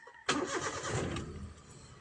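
A Hyundai car, previously failing to start because of a broken ground cable, cranks briefly and catches, its engine firing into a rough rumble that settles toward idle, close and alone.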